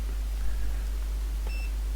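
Multimeter continuity tester beeping across a dead-shorted Xbox 360 board: a short, faint electronic tone sounds briefly once over a steady low mains hum and quiet room noise.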